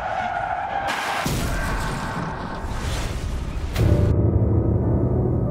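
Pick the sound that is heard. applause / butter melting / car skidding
car skidding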